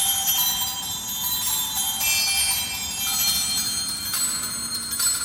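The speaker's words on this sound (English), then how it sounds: "So that sounds like it's probably based off the Glockenspiel" Bright, bell-like metallic tones ring out in a quick pattern, a glockenspiel-style sampled percussion sound from Spitfire Audio Percussive Swarm, with a shimmering, sustained wash behind it.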